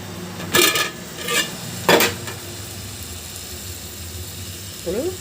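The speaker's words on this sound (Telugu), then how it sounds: "మధ్యలో ఒకసారి గరిటతో అలా తిప్పండి" A ladle stirs drumstick curry in a pot, giving a few short scraping clinks spaced apart over a low steady sizzle, with no voice.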